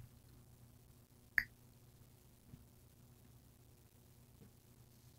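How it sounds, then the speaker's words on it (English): A single crisp finger snap rings out close in a quiet room, followed by a couple of much fainter ticks against a low hum. "I'm going to try snapping"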